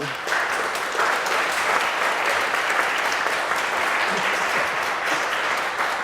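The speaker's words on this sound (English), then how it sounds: "Everyone, please give a round of applause for our panel" Sustained, even applause from an audience honouring a comics industry panel, loud and unbroken from start to finish.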